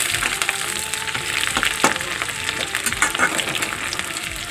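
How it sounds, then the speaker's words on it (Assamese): Onions frying with cumin in hot oil: a steady, dense sizzle with occasional scraping and stirring knocks, close and continuous with no talking. "পিঁয়াজখিনিও মোৰ ভাজা হৈ গৈছেগৈ।"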